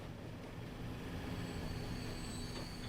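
Trains rolling along track in Transport Fever 2, a steady rumbling drone with faint wheel squeal, moderately distant and continuous throughout.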